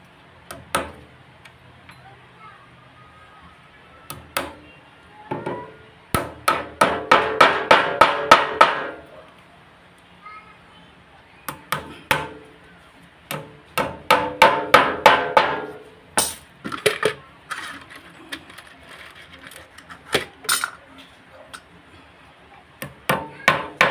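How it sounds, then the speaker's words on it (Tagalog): Hammer blows driving nails into old reused wood while building a door jamb, arriving in quick bursts of sharp, close knocks separated by short pauses. "Lagyan natin ng pako, ano."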